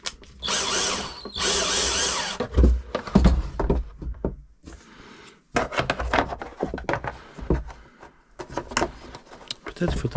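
A power drill bores holes in a plastic Traxxas X-Maxx RC car body, loud whirring bursts starting and stopping repeatedly, with speech between them.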